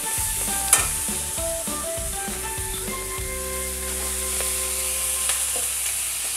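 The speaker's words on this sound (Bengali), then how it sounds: "দিয়ে ভালো করে নেড়ে নেব।" Chopped banana flower stirred into spices frying in a pan for a Bengali mocha ghonto, with a soft continuous sizzle and scattered light scraping and tapping of the spoon, close, with no talk.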